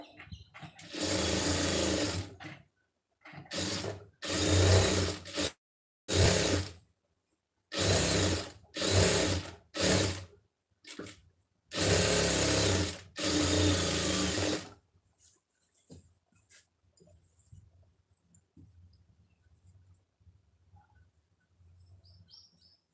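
A sewing machine stitches a blouse lining in a quick series of loud, close bursts of rapid needle chatter separated by short pauses, then falls to faint clicks and quiet handling.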